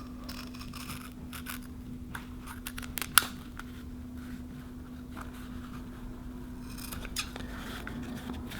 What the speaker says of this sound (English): And that's the part that you need to cut off.